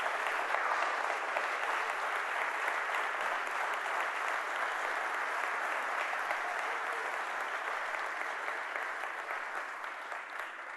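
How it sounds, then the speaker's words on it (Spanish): Loud sustained applause from a church congregation during a sermon, a dense wash of many hands clapping that holds steady for about eleven seconds and only slightly thins toward the end, with no voices. "Den un fuerte aplauso a Jesucristo"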